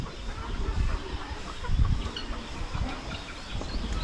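Hens and chicks cluck softly in a farmyard where young hens have begun brooding, steady low clucking and rustling close by, with no voices.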